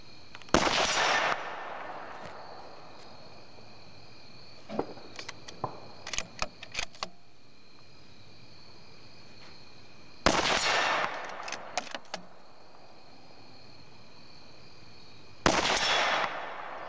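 Three loud, sharp rifle shots from a Savage Ashbury fired outdoors at widely spaced intervals, each with a short ring-out, and quieter clicks and clacks of bolt handling between them.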